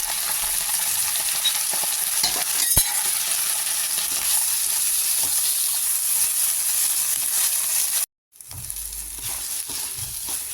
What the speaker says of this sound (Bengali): এই মশলার সাথে ভালো করে ভাজা ভাজা হয়ে আসছে।